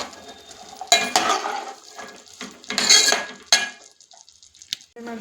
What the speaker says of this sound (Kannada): ಹೆಚ್ಚಿಟ್ಟಿರೋಂಥ ತರಕಾರಿನ ಹಾಕ್ಕೊತೀನಿ. ಮಿಕ್ಸ್ ಮಾಡ್ಕೊಳ್ಳೋಣ.